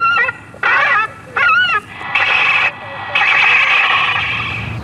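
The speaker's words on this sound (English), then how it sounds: "Now we're going on to the gull species," A recorded herring gull distress call played back through a loudspeaker to scare birds away at an airport: several loud, harsh, wavering squawks in separate bursts, then longer sustained calling.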